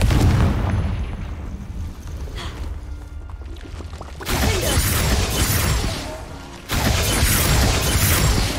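Confringo fire spells blasting in the Hogwarts Legacy video game: two loud, roaring bursts, each sustained for a couple of seconds, with quieter combat noise between them.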